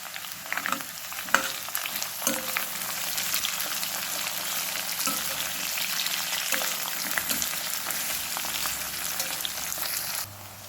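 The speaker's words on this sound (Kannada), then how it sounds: "ಈಗ ನಾನು ಇದಕ್ಕೆ ಈರುಳ್ಳಿಯನ್ನು ಸೇರಿಸ್ಕೊಳ್ತೇನೆ. ನೋಡಿ, ಉದ್ದಕ್ಕೆ ಹಚ್ಚಿಟ್ಕೊಂಡಂಥ 2 ದೊಡ್ಡ ಈರುಳ್ಳಿಯನ್ನು ಹಾಕ್ಕೊಂಡಿದ್ದೇನೆ" Two large lengthwise-sliced onions fry in hot tempering oil for chicken sukka, a steady close sizzle broken by occasional sharp clacks of a stirring spoon against the pan.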